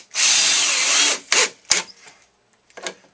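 Bosch impact driver with a Bosch bit drives a screw in one steady loud whirring burst of about a second, followed by a few short clicks and taps as the tool is handled.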